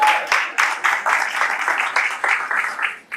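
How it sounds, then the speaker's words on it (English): An audience claps for itself in a steady burst of hand clapping, dense and close, swelling and dipping in pulses for a few seconds without voices over it. "So go ahead and clap for yourselves."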